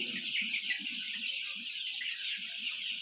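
Chickens cluck in low, repeated bursts over a steady bright chorus of chirping chicks crowding around water dishes, a busy flock in a poultry shed heard close and continuously.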